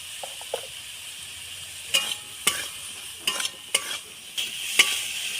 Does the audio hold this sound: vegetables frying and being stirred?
yes